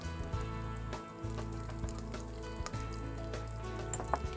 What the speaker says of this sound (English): we are going to add some oil and curry leaves, rampe,